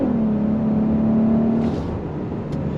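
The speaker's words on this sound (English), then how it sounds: "Good news is it's not too coarse of an engine note. Definitely sounds like a V6" A Kia Carnival minivan's V6 pulls hard on throttle through its 8-speed automatic, a steady smooth engine drone with a tone that dips as the gear changes, heard from inside the cabin and fairly loud.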